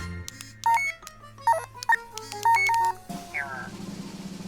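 An electronic bill reader gives a run of short, bright beeps in uneven bursts, nearby and clear, then a voice speaks at the end.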